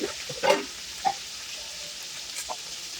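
Vegetables with cut tomatoes and a little salt frying in a pan, with a soft sizzle broken by a few sharp spattering pops and clinks, quiet and close, with no talk.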